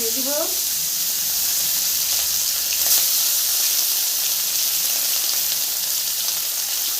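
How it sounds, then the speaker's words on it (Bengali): Thick katla fish steaks fry in hot oil, a loud continuous close sizzle and hiss, with a short voice-like sound at the very start. "আমি দুটো দুটো করে ভেজে নিই এই তেলে"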